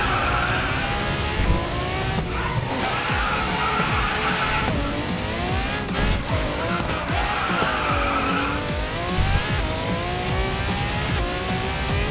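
A Bugatti drifting in a racing game, tires squealing and skidding in long wavering screeches over a continuous revving engine, loud and close throughout.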